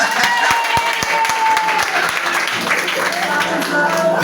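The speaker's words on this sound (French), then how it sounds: "Est-ce qu'on peut acclamer pour les hommes?" A church congregation applauding and cheering for the men during a French-language service, with steady, dense clapping from a large crowd and voices mixed in throughout.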